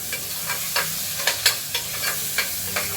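Mango pieces and lentils are stirred in a pot with regular scraping strokes about every third of a second, close and clear over a soft sizzle, with no talk.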